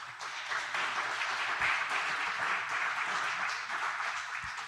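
Church congregation applauding at a Sunday service, a dense wash of many hands clapping steadily for several seconds at moderate distance, with no speech over it.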